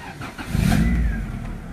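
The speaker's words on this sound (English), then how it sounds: "now I'm gonna start it up so you guys could hear it." A 1994 Honda Civic EG hatchback engine cranks and catches, surging briefly into a low rev before settling into a steady running idle hum.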